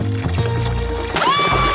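Cola pours and floods into a cage as a steady, continuous rush of liquid that fills the whole stretch, splashing and gurgling, with a rising ringing tone toward the end.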